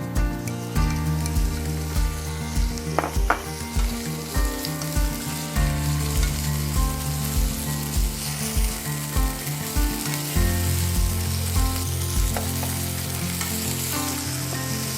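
Sesame oil heats in a frying pan for a Korean noodle dish, a steady crackling sizzle throughout, layered over rhythmic low thumping background music with occasional sharp pops.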